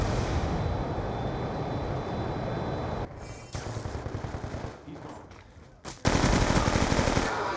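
Rapid automatic gunfire rattles in Black Ops 2 in dense sustained bursts, broken by brief lulls near the middle before a loud burst resumes, with faint voices underneath.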